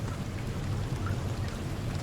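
Steady rain in the Deadliest Catch fishing game, a dense, even hiss of falling drops with a low rumble beneath, continuous and moderately loud throughout with no voices.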